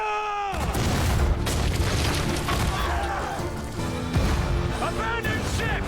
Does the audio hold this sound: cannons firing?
yes